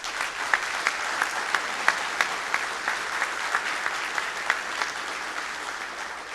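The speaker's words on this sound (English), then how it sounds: "let's give everybody a round of applause." Sustained audience applause from a crowd at the opening session of a GIS forum, steady clapping filling the whole stretch with sharper individual claps standing out.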